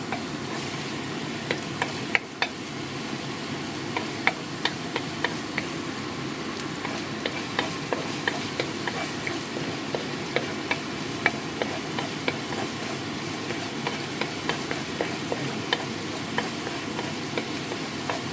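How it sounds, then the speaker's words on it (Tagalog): Garlic (bawang) sizzles steadily in a frying pan, a continuous hiss with scattered light pops and occasional clinks of a utensil, close by and constant in level. "Fry the bawang for a little bit brownish"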